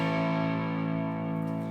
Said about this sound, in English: So there's a lot of distortion on these pickups.